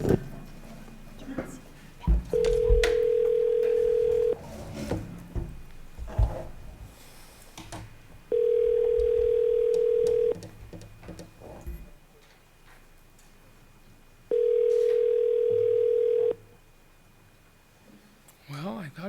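Telephone call placed from a meeting-room phone, with three long, steady ringback tones in a regular pattern heard over faint room noise and intermittent talking.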